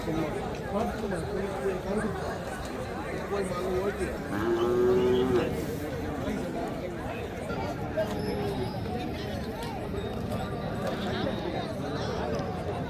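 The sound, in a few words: cattle mooing at a cattle market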